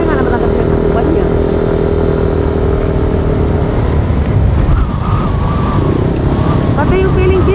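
Strong, cold wind buffeting the microphone on a mountain top near Santa Lucia; a loud, continuous roar of gusts with voices talking faintly underneath.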